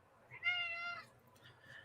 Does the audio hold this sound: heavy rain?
no